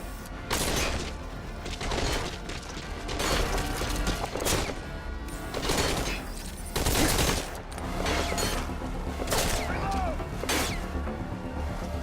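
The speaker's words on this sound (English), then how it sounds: "Open fire!" Sustained bursts of soldiers' automatic gunfire in Metal Gear Solid V: Ground Zeroes, repeated loud volleys with impacts and crashes across the whole stretch, game voices briefly heard between shots.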